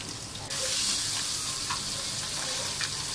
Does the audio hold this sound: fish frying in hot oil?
yes